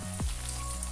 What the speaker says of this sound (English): I am going to be frying some plantain, as you can see.